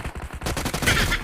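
Rapid bursts of gunfire from the PUBG mobile battle royale game, loud and dense, with repeated shots overlapping into a sustained automatic volley.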